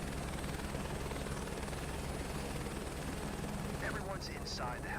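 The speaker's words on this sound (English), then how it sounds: "Maintain a hover until everyone's hoisted back into the helicopter." Helicopter hovering in Microsoft Flight Simulator 2024, a constant whirring rotor drone with steady rhythmic chop; a voice briefly talks over it near the end.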